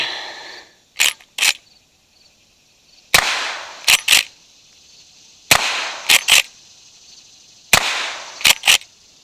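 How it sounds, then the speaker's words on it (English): Four close, loud rifle shots from a 357 Magnum lever-action 1873 rifle, each a sharp crack with a decaying tail, several followed by quick mechanical clicks of the lever action, spaced about two seconds apart outdoors. "Okay, so these will be the 357 Magnum."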